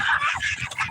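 Chickens clucking in a busy, agitated group at close range, the calls overlapping continuously with no clear pauses.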